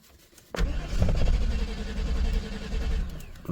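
A 1997 GM truck with a 5.7 engine cranks without catching in the cold. The starter engages with a sudden thump and then grinds in a steady rhythmic chug for about three seconds, close and loud.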